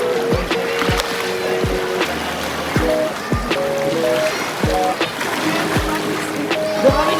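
Sea waves wash over sharp rocks along a rocky shore in Zambales, Philippines, making a steady rushing wash punctuated by repeated dull knocks and thumps, with faint tonal sounds mixed in.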